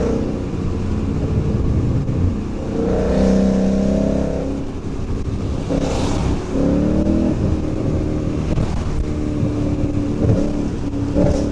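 A loud Ford Mustang GT engine, heard from inside the car in the rain, revs and pulls hard. Its roar climbs and falls in repeated surges with a steady rumble underneath.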